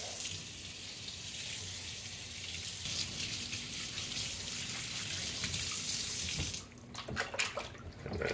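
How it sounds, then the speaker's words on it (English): Hot water running from a tap, a close, steady hiss and splash of flowing water that continues for most of the stretch, then breaks into irregular splashes near the end as something is rinsed under it. "Some hot water."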